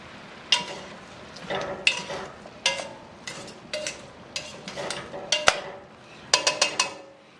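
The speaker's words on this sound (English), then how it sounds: "we're going to give that a quick toss again" Green onion tops tossed into a Caribbean ital vegetable stew, a ratatouille-style dish, give off a string of sharp clattering scrapes and clinks in a pan, separated by short gaps, over a low sizzle heard close up.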